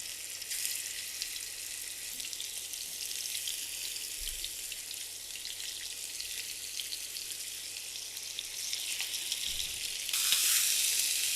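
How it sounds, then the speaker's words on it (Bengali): Fish pieces fry in a little oil in a pan, giving a steady, bright sizzle that runs evenly throughout, close and fairly quiet, with no voices. "এখন মাছগুলো ভাজতে আমি চলে আসলাম। প্যানে কিছুটা তেল দিয়েছি,"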